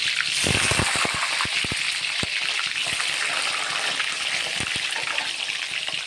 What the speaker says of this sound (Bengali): আলুগুলো আমি লাল করে ভেজে উঠিয়ে নেব, ভালো করে লাল করে ভেজে উঠিয়ে নেব।